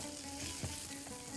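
Chopped garlic hits a hot pan with fish, a steady close sizzle and crackle that swells briefly with a soft stirring thump, with no one speaking.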